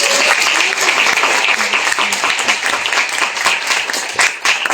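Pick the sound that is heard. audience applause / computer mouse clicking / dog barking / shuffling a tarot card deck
audience applause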